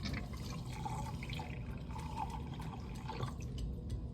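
Water is poured for a filtration step in a lab separation exercise with sand and a filter: a steady close splashing and trickling of liquid with a few faint drips, and no voices.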